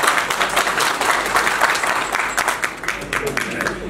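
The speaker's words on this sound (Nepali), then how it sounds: "हामी सबैजनाले छाती फुलाएर एकचोटि ताली बजाउनुहोस् त" An audience claps at a live comedy stage show, a dense, steady burst of many hands applauding close by that lasts the whole few seconds without letting up.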